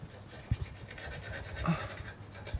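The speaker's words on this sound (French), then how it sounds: "il vaut mieux passer un petit coup de couteau ainsi" A knife scrapes around the edge of a baked cheese tart in its tin, giving quiet close rasping scrapes with a few light knocks.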